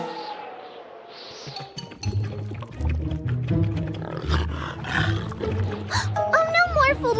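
A cartoon tiger roars loudly amid dramatic orchestral score, with sound effects and a rising whistle-like tone near the end, no speech over it.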